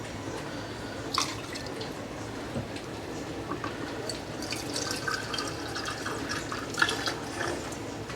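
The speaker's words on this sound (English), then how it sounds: "I'm just going to fill them a quarter of the way first." Hot turkey broth is poured into canning jars, making a faint continuous liquid trickle with soft drips and small splashes, close by and without talk.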